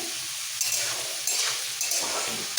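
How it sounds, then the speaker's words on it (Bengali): Steamed cauliflower frying in oil in a pan, salted as it cooks, makes a steady close sizzle with repeated stirring scrapes and brief surges of hiss. "ফুলকপিটা ভাজার সময় সামান্য একটু নুন দিচ্ছি তাড়াতাড়ি ভাজা হয়ে যাবে"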